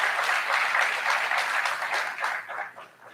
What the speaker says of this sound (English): Give Scott Dorney and his team a round of applause